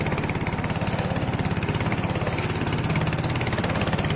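A small boat motor chugging loudly and steadily up close, with a fast, even pulsing rhythm and no voices.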